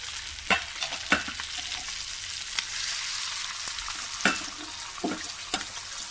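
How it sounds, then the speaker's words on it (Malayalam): Panjimeen fish frying in a pan gives a continuous hiss and sizzle with intermittent louder crackles and spatters, close and fairly loud, with no voices. "അതിൻ്റെ പഞ്ഞിമീൻ പൊരിച്ചെടുക്കാം കേട്ടോ."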